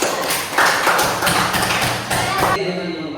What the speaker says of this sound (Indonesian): Coba kita kasih aplaus dulu untuk Aldi.